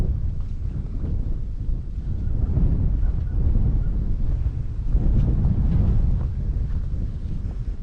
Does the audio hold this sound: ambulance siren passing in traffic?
no